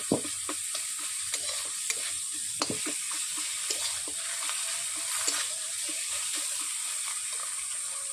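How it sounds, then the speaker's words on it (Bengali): A spatula repeatedly beats and mashes a fish head into cumin-spiced spinach frying in a pan, with sharp irregular taps over a steady close sizzle. "খুন্তি দিয়ে এইভাবে পিটিয়ে নিচ্ছি"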